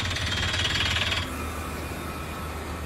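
A downhole hammer drill on a well-drilling rig thrusts into rock with a rapid, loud mechanical hammering that cuts out after about a second, leaving a steady lower engine drone.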